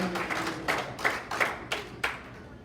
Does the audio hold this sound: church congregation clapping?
yes